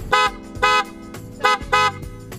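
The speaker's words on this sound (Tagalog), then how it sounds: "Ganyan kalakas ang PIAA horn." A loud PIAA car horn honks four times in two quick pairs, sharp and close, with a brief pause between the pairs.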